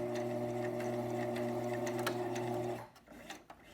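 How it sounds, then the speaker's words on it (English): Sewing machine stitching Velcro onto the end of a fabric coin purse, a close steady motor hum with rapid needle ticking that runs for nearly three seconds, then stops, leaving faint handling clicks. "So I'm going to sew this side."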